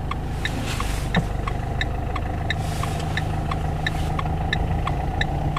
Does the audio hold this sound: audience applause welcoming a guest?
no